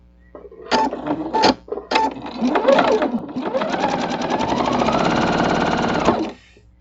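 A sewing machine stitching a seam on a patriotic star quilt block: a few short stop-start bursts, then a steady, close, mechanical whirring run of several seconds that stops abruptly.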